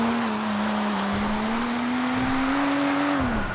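A BMW engine in the FiveM driving game holds a steady, droning note that climbs gradually and then drops near the end, loud and continuous with no talk over it.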